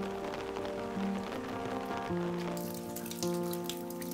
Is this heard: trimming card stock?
no